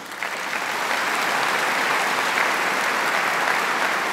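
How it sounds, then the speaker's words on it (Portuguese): A church congregation applauds the concelebrating priests at a Mass, broad sustained clapping that swells in the first half second, then holds loud and even throughout. "eles merecem uma salva de palmas"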